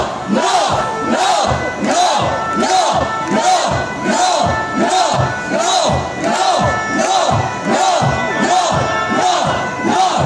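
A large crowd at a night Pride march in Paris chants a loud, rhythmic shout, repeated in regular bursts roughly every second for the whole stretch, close and powerful.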